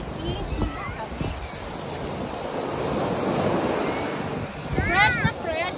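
Sea waves wash and surge on open water on a fishing trip off Infanta, Philippines, a steady broadband rush with wind noise, with a brief sharper swell near the end.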